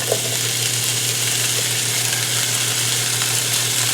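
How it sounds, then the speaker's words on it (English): Chopped leftover pork roast sizzling in a pan, a steady, even hiss of frying that holds throughout with no talking. "In the same pan, I'm just going to throw this chopped up pork roast"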